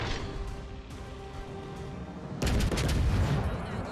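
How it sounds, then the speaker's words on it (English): A warship's rear turret fires in World of Warships Legends, a sudden heavy booming salvo that erupts after a quieter rumbling stretch and rolls on loudly to the end. "we'll use this rear turret to shoot at this Atlantico"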